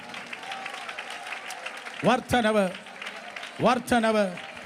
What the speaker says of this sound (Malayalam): കൈയടിക്കുന്ന നേരെ കൈയടിക്ക്